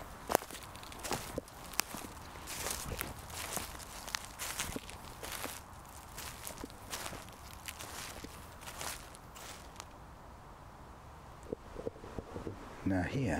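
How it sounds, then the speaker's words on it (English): Footsteps crunching and rustling over leaf-covered forest floor in Epping Forest in October, a fairly steady walking rhythm, quiet and close with faint wind in the background. "And the sound of my footsteps on the forest floor."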